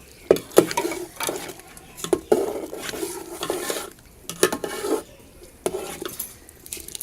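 Almonds go into a pot of kheer with a spoon, making scattered metallic clinks, scrapes and stirring noises in irregular bursts, fairly close and moderately loud.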